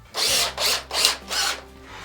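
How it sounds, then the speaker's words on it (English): Power drill boring holes through a network switch's metal case, four loud whining bursts in close succession, each lasting about a third of a second with brief pauses between, near and alone. "Let's drill these holes."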